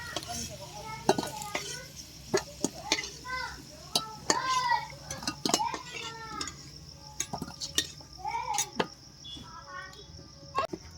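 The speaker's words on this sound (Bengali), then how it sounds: "আলু ভাজা হয়ে গেছে, এখন উঠে নেব" Fried potatoes are lifted out of a hot pan in a home kitchen while cooking a Bengali duck curry, with repeated metal utensil scrapes and clinks against the pan over a soft sizzle and faint background voices.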